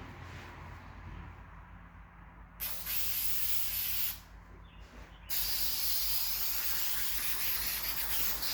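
Spray glue hissing from an aerosol can onto a car seat cover during a Triumph Spitfire seat recovering job, several sustained hissing bursts of varying length with short pauses between, close and fairly loud.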